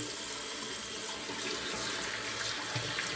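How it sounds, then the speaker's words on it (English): Cold water runs steadily from a tap into a sink for a rinse, a continuous close hiss and splash with no break. "A little cold water rinse."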